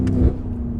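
A BMW F90 M5 V8 engine revs at high RPM, a loud, sustained engine roar with a steady low rumble across the whole brief moment.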